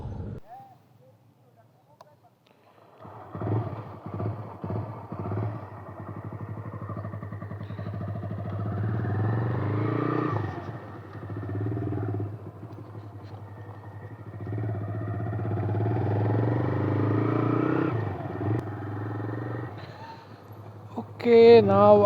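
A 125cc motorcycle rides along in motovlog style, its engine note a steady low drone rising and falling with throttle across the whole ride, while the rider talks over it almost continuously.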